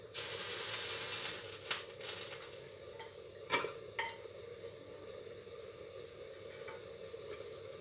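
Black-eyed peas (lobia) stirred and fried in a pan, with a steady sizzle and scraping stir strokes throughout, a few sharper clatters of the spoon near the start and the middle.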